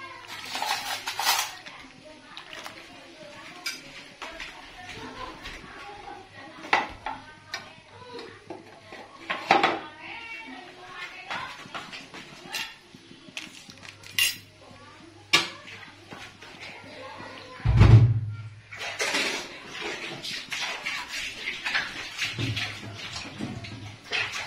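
Coconut milk curry (gulai) cooked in bamboo is stirred in a pot, with irregular clinks and scrapes of a utensil against metal running under ongoing talk.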